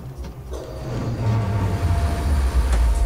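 Subway train in the Metrostroi game braking hard, a loud continuous low rumble and grinding that swells and holds steady, with faint squeal tones riding above.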